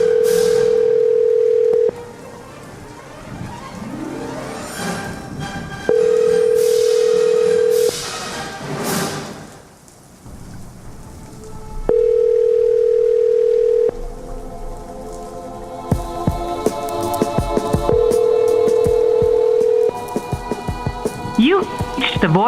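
Telephone dial and call tones on a radio show line while calling a guest: a steady tone sounds in roughly two-second blocks that repeat, broken up by crackly line noise, clicks and beeps.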